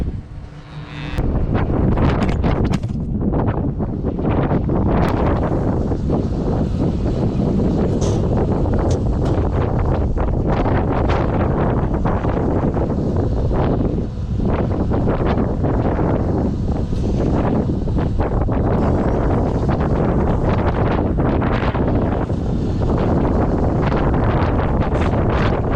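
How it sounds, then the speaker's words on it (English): Strong, constant wind blows across open snowy farmland near a barn and cattle, buffeting the microphone with loud, steady low rumble and roaring gusts for the whole stretch. "Try to get out of the wind here a little bit"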